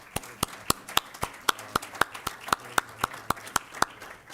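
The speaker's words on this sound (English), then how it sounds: "Let's give our speakers a round of applause." A few distinct, evenly spaced claps ring out at the close of a community meeting for its speakers, sounding like one or two people clapping in a steady rhythm against a quiet room rather than a full crowd.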